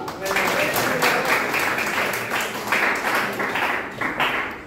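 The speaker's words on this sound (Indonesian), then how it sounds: "Beri tepuk tangan bagi Tuhan." A church congregation claps for God in sustained, dense applause that carries steadily throughout, with voices mixed in beneath the clapping.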